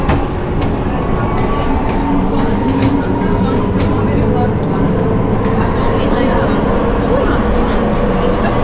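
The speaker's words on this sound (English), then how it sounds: "Be careful when the train is taking off." Amsterdam metro subway train departing, a steady loud rumble of wheels and motor filling the station with constant broadband noise and faint rail clatter, with voices speaking over it.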